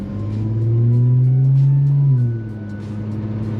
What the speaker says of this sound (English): there's a little bit of noise when you speed up.